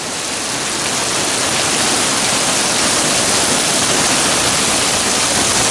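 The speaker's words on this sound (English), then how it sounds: "We got rain coming in sideways." Heavy, wind-driven rain pours down sideways in a dense, unbroken hiss, loud and close, with no voices.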